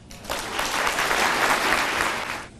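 Audience applause at a drug court graduation ceremony, a dense burst of clapping that swells quickly, holds steady for about two seconds, then tapers off at the end.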